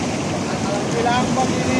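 Strong sea waves rolling onto a beach, a loud, steady wash of surf and wind buffeting the microphone with no break across the short stretch.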